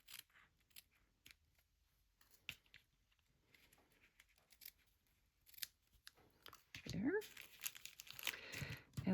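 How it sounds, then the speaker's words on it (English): Scissors trimming ribbon for a handmade birthday card: several quiet, crisp snips close by, then louder crinkling and rustling of ribbon and paper near the end, with a person speaking softly around the cuts. "And I'll trim down my ribbon."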